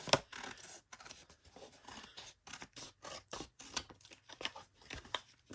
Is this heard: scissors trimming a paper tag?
yes